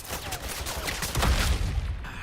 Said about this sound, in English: Now I'm letting the bullets fly.